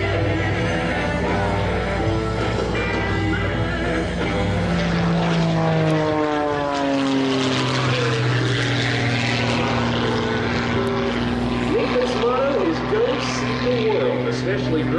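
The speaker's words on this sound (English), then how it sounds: "Flying this deHavilland DHC-1 designed originally as a trainer for the RCAF, we're in for a display of low-level aerobatics in this most classic air show" A de Havilland DHC-1 propeller trainer flying low-level aerobatics at an air show, its engine droning loudly and sweeping in pitch as it passes and climbs, with a voice talking over it.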